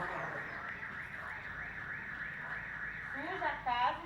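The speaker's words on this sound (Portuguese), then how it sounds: "Que foi lá dentro e acionou o alarme agora" A house alarm sounds steadily with a repeating warbling siren tone, moderately loud throughout, near an orchid house, while a voice speaks over the end.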